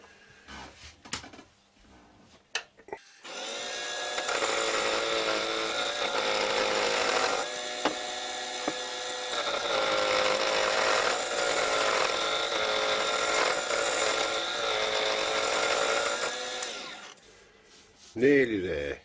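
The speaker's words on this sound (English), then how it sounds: "I'm just going to round this off now with the scraper, round nose scraper" Round nose scraper rounding a small ash bowl on a wood lathe, a sustained rough scraping hiss over the spinning lathe's tonal hum for about fourteen seconds, with brief knocks and quieter stretches before and after.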